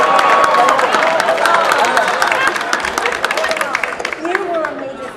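An audience at a Newark civic gathering claps and cheers, a dense wash of hand claps under crowd murmur that stays steady, then thins slightly after the midpoint.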